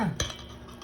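A spoon stirs melted butter into a low-carb pandesal mixture in a bowl, making a brief clink followed by a soft scraping swirl, close and short.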